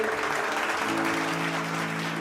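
An audience at a Tamil church message claps together, a dense, even patter of many hands that holds steady for a couple of seconds with no talk over it.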